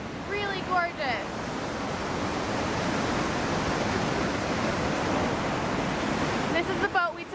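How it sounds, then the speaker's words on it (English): The loud waterfall at Switz Falls roars as a steady, dense wash of rushing water that fills the whole clip, with brief faint voice traces near the start and end. "I made it out to the waterfall and it's so loud"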